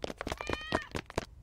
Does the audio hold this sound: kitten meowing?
yes